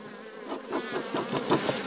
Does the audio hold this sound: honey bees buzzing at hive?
yes